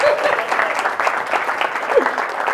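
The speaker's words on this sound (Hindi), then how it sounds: "अगर अच्छा लगा तो थोड़ा सा ठोको ताली" A room of attendees at a business networking presentation breaks into steady, dense applause, with a few voices faintly mixed into the clapping.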